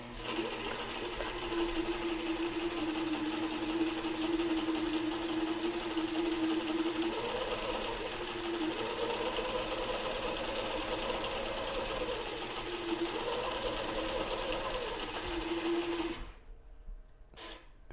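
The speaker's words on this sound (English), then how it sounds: "The sewing machine's like right in front of me, but the needle's like offset" A sewing machine stitches fabric on a wobbly little desk, a steady, loud, continuous mechanical whir with a faint rising and falling hum, running for about sixteen seconds before it stops abruptly.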